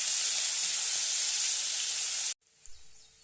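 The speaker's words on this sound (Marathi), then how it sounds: "आपली मोहरी छान तडतडलेली आहे त्यामध्ये आपण आता जिरं घालून घ्यायचं आहे" Mustard seeds, cumin and a green chili, garlic and ginger paste sizzle loudly and steadily in hot oil for about two seconds, then the hiss cuts off abruptly, while cooking vada pav filling.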